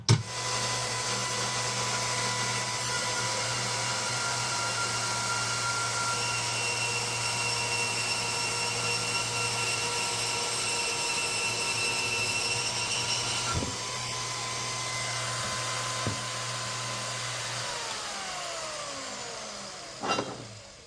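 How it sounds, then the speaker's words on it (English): A bandsaw runs steadily while cutting through steel angle in a workshop, a continuous loud whine and hum for about twenty seconds before winding down near the end, with no talking. "So I'm gonna be using the bandsaw."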